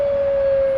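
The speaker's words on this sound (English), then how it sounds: "Jitterbug blasts the alert siren and makes an announcement on the screens." An alert siren holding a single steady, loud electronic tone, unbroken for under a second.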